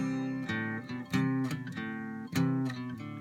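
A guitar slowly plays the chord-based intro to a song, with distinct plucked chords and intervals sounding one after another in a measured rhythm, up close and fairly quiet, with no talk.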